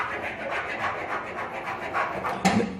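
Tweezer tips scrape across a plastidip-coated car fender in a steady run of close, raspy scratching strokes, ending with a sharper scuff near the end.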